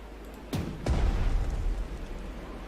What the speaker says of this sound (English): That artillery is a bit of a nuisance